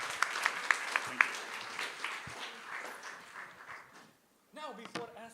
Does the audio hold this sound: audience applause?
yes